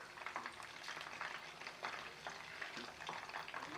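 Chicken 65 leg pieces deep-fry in hot oil in a roadside-style preparation, giving a dense, continuous close-up sizzle and bubbling with no talk over it.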